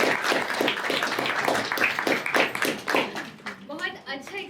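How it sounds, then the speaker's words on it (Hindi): Audience clapping after a comedy stage play, a loud, rhythmic burst of many hands that fades out while a voice begins talking over the tail end. "उनके लिए ज़ोरदार तालियां"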